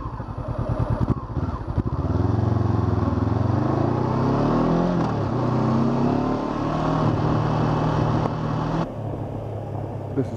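A Honda CB500X adventure motorcycle is ridden on a short trip home over dirt, its engine a loud, close rumble with clattering, shifting pitch as it accelerates and settles, until the sound drops away near the end.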